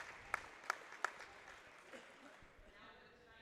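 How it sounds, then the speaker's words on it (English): Basketball fans give a short round of applause as the Alburnett team is introduced before a varsity game against Central City. A few loud claps stand out early, then the sound thins into faint crowd noise in a gym. "Nice round of applause from Alburnett fans as Alburnett's introduced,"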